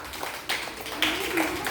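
Children clap their hands during a playful maths class activity on shapes and figures, a few sharp, close claps landing in a loose rhythm.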